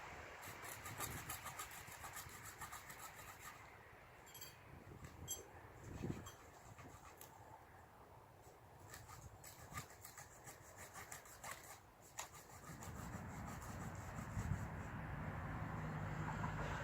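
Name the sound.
SOG folding entrenching tool sawing a cut into a tree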